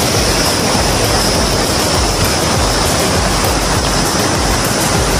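A loud, steady roar of a waterfall, broadband and unbroken from start to finish, with nothing else standing out.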